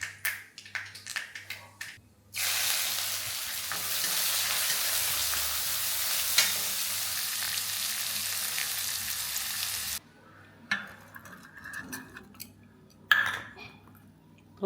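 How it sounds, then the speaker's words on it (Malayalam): Mustard seeds pop and crackle in hot oil for a Kerala meal, a dense loud sizzling burst lasting several seconds, with brief voices and kitchen clatter before and after. "ഒരു ലോഡ് കടുക് നീട്ടുന്നുണ്ട്,"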